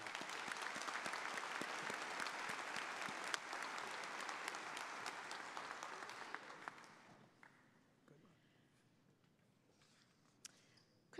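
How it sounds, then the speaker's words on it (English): Audience applause at a community college commencement for two faculty members granted emeritus status: a dense, sustained wash of many hands clapping for about seven seconds, then tapering off into scattered claps and quiet room noise. "Give them a round of applause."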